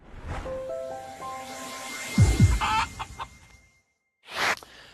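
Chicken clucking effect opening a comedy podcast's "What the Cluck" segment: a few short, close clucks and squawks with a low rooster-like burst, then a brief pause and one final sharp cluck, no talking.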